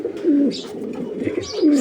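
A racing pigeon of Olympic bloodline gives two close, soft rolling coos with a brief pause between them.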